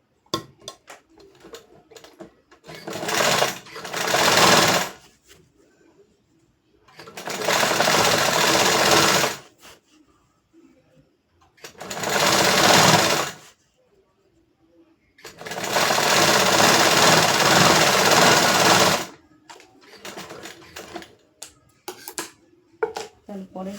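Sewing machine stitching a trouser seam in four bursts of rapid mechanical whirring, short and long, separated by pauses with fabric handling and low-level speech, close and fairly loud.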